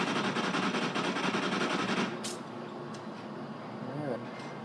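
Honey Badger gun in Call of Duty Ghosts, heard as rapid automatic fire for about two seconds, then a few scattered shots and game sounds, with a voice talking over it.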